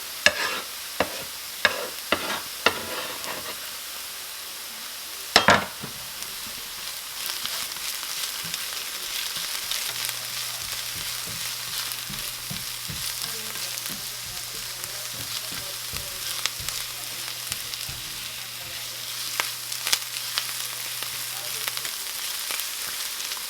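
Onions and garlic frying in a pan, a steady moderate sizzle that runs throughout, with several sharp clinks and stirring knocks early on and a brief voice near the middle.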